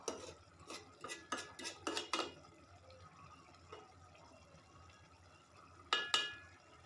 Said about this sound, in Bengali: আমি আর একটু নাড়াচাড়া করে ঝোল শুকিয়ে নামিয়ে ফেলবো।